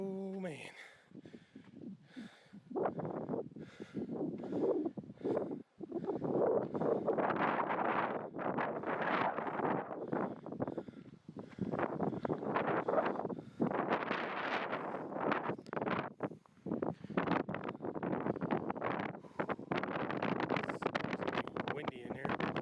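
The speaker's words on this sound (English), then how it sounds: "Windy in here." Wind gusts inside Brimhall Natural Bridge, a rock arch, as loud roaring surges that buffet the microphone almost the whole time, with a person speaking now and then.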